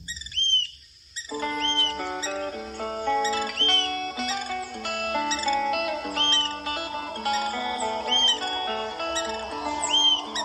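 Bright birdsong fills the air: repeated whistled phrases and quick chirps overlapping continuously, close and lively, with no talking.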